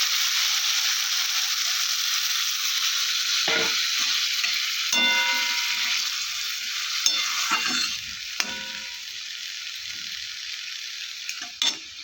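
Water added to a frying pan while cooking katla fish paturi, a loud steady hissing sizzle close up, with a few scraping stirs and clinks as it gradually eases.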